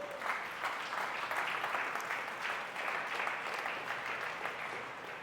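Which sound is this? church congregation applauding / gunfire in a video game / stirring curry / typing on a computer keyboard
church congregation applauding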